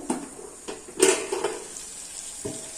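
A lid comes off a pan of okra cooking in oil, with a sharp metallic clank near the one-second mark, a few lighter clinks around it and a soft sizzle in the background.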